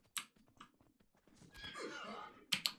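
Horse in the Myth of Empires video game, heard while under attack: short pained whinnies and a louder neigh near the end, close and clear, with bursts of game noise between and no talk over it.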